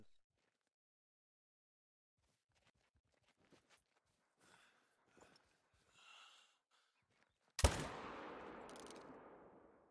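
A single loud rifle shot from a .300 Win Mag in theHunter: Call of the Wild, a sharp crack with a long rolling echo across open terrain after quiet rustling and faint footsteps.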